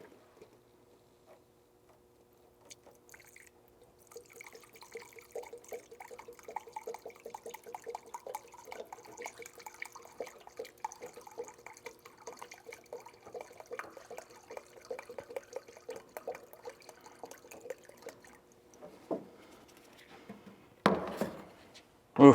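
Epoxy primer activator is poured into a mixing cup during truck primer prep, giving a quiet, steady liquid trickle with faint drips through most of the stretch, ending in a few louder handling clatters.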